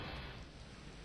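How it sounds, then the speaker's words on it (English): Rain falling in the Voices of the Void video game, a dense, even wash of steady hiss with a low rumble beneath, alone and without talk. "Oh, it's raining."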